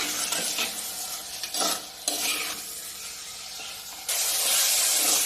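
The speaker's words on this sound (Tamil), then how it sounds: "நல்லா கத்தாழையும் போட்டு ஒரு வதக்கு வதக்கிக்கலாம்ப்பா" Cleaned aloe vera sautés in a pan with tomato and onion for a tamarind-style curry, a close, steady sizzle and hiss broken by stirring scrapes, swelling louder near the end.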